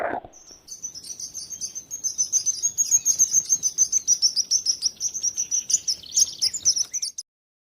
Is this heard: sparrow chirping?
yes